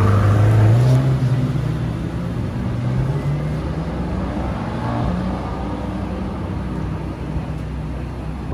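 Mercedes AMG GT Black Series engine accelerating as heard from inside the cabin on a track, a loud rising engine tone at first that settles into a steady mid-level roar, no talk.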